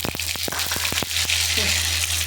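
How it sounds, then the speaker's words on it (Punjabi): Cumin and mustard seeds dropped into hot oil beside pan-fried bitter gourd, a bright steady sizzle with a few sharp popping crackles early on and a low hum underneath. "ਇੱਧਰ ਆਪਣਾ ਤੇਲ ਗਰਮ ਹੋ ਗਿਆ ਤੇ ਹੁਣ ਆਪਾਂ ਇਹਦੇ ਵਿੱਚ ਪਾਵਾਂਗੇ ਆਪਾਂ ਜੀਰਾ ਪਾਤਾ ਤੇ ਆਪਾਂ ਰਾਈ ਪਾਤੀ"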